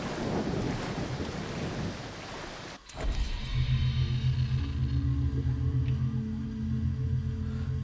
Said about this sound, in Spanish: Mira, mira, está lloviendo.